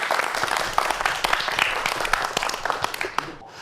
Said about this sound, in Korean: 김도경 교수님의 강연 박수로 청해 보도록 하겠습니다.